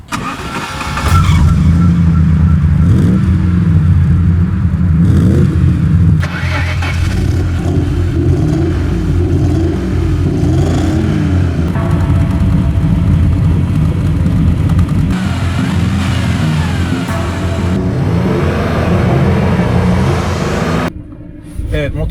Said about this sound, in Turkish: motorları çalıştırdık şu anda